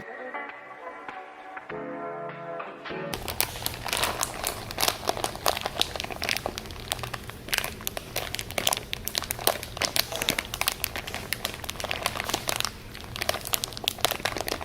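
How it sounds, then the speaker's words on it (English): A bag of vegan chocolate chips crinkles and rustles loudly and continuously up close, with crisp irregular crackles after a short quieter opening. "can we just appreciate the ASMR coming from this bag?"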